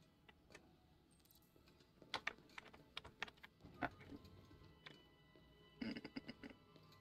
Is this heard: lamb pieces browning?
no